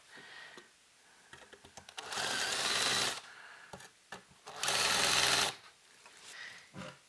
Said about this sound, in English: we'll come back with a larger bit and chamfer the edge of these holes